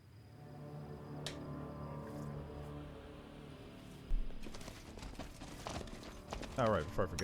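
Horse hooves clopping in the fantasy role-play video game Pathfinder: Wrath of the Righteous: a rapid, fairly faint run of clip-clop steps that starts partway through over steady game background sound.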